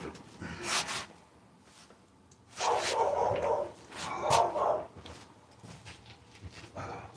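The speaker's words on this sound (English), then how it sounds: "What are you barking at?" A dog barks repeatedly in short clusters at moderate distance, with quieter gaps and faint background noise between the bursts.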